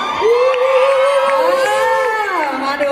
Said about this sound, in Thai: ขอเสียงเชียร์ชาวลำปางหน่อย